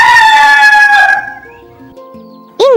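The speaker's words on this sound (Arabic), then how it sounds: "إنه صوت الديك" A rooster crows loudly and clearly, a long cock-a-doodle-doo that fades out, followed by a brief sharp start of another call at the very end.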